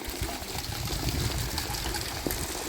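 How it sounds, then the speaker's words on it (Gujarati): A heavy stream of water pours down from a factory roof outdoors, a steady, loud rushing gush that fills the whole moment without pause. "મારા કારખાના ઉપરથી પાણીનો બોમ્બો પડે નીચે"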